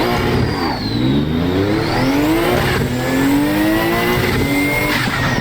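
A race car engine revving in a racing video game, loud and close, climbing through the gears in repeated rising sweeps with brief shift dips and faint tire squeal.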